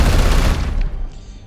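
Support-fire gunshots in the turn-based tactics game Warhammer 40,000: Chaos Gate – Daemonhunters erupt as a loud, dense volley that rolls off and fades over about a second and a half, with no talk.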